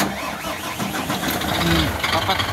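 A truck engine with air conditioning cranks and starts, settling into a steady mid-pitched idle with a broad mechanical rumble, close by, while someone talks over it.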